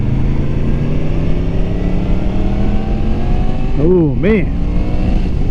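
A 2021 Yamaha MT-10 with a 190 rear tire pulls hard through the gears, its engine note climbing steadily then dropping and rising again at a quick shift, loud and close, with a rider's brief exclamation.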